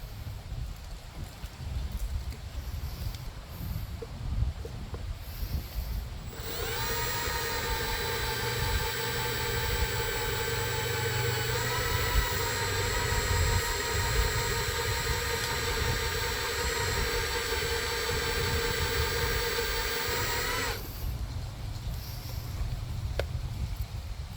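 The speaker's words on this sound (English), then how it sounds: "And then I'll start with a small drill bit." A power drill with a small bit whines steadily into a broken bolt on a Husqvarna mower for about fifteen seconds, its pitch dipping briefly partway through, over a low background rumble.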